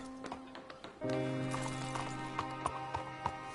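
Horse hooves clip-clop on the ground in the video game Red Dead Redemption 2, a steady rhythm of close taps over a low sustained game tone, with brief voice sounds mixed in.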